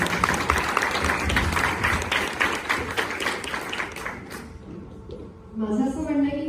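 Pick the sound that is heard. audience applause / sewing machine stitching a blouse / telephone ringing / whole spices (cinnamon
audience applause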